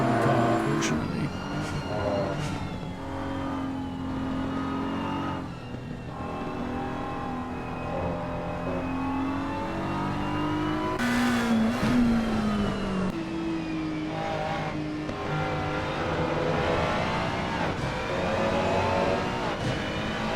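Sim race cars lapping Paul Ricard in a racing game, engines whining and revving through gear changes, with several cars passing close together and pitch rising and falling continuously.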